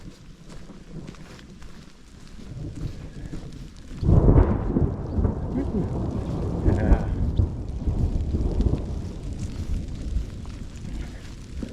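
A deep roll of thunder breaks out partway through and rumbles on for several seconds over steady rain, with a brief word spoken.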